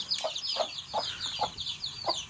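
Chickens cluck in a village yard at dusk in a steady series of soft, close clucks, about five evenly spaced calls over a faint background, with no talking.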